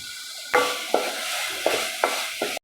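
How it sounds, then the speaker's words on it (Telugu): Masala frying in oil in a pan, a close, constant sizzle broken by four or five scraping strokes of a stirring spoon at irregular intervals, with no voices. "ఇప్పుడు ఈ మసాలా బాగా వేగి నూనె పైకి తేలే వరకు వేయించుకోవాలి."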